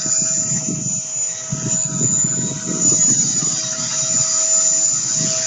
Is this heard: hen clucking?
no